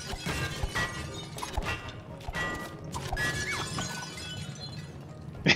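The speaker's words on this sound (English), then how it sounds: "I'll break some glass" Glass shatters and breaks repeatedly in the co-op video game It Takes Two, a series of crashing, tinkling impacts with clinking debris, fairly loud and without talk.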